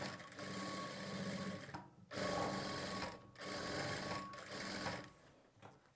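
A sewing machine stitches lining and piping onto a blouse, running steadily in close bursts with short pauses between seams.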